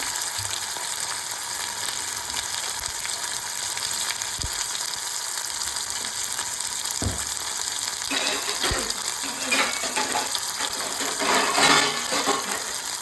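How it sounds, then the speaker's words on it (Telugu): Ginger garlic paste frying in oil in a pan for paneer curry, a steady close sizzle throughout with occasional stirring scrapes and clinks. "అల్లం వెల్లుల్లిపాయ బాగా వేగిపోయిందండి"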